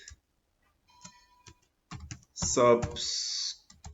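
Typing a workspace name on a computer keyboard, heard as scattered close key clicks that build into a quicker burst of keystrokes, ending in a sustained clattering stretch.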